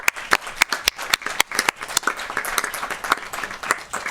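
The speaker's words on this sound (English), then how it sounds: "Let's give them another round of applause." An audience applauds at an Asian American and Pacific Islander heritage month commemoration: a sparse, uneven round of individual claps, close and fairly crisp, with no talking over it.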